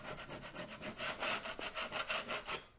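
A 6-inch knife scraping dried skim coat ridges off a wall, a quick series of rhythmic raspy strokes, close and fairly soft, repeated back and forth about a dozen times.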